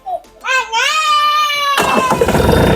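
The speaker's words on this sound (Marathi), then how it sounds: "तो ट्रॅक्टर चालू झालेला आहे." A new Mahindra Oja tractor started by push button: a rising whine of the starter cranking, then the engine catching into a loud, steady, rumbling idle close by.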